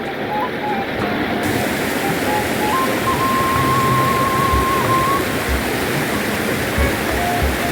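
Clear river water flows steadily and loudly through a village in Cipancar, a continuous close rushing with no break across the whole stretch.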